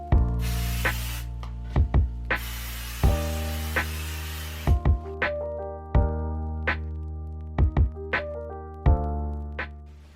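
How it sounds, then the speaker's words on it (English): A spray can hisses in two long, loud bursts while sublimation hedgehog designs are coated, with sharp clicks and a steady low hum around them. "Okay, so I'm just going to spray."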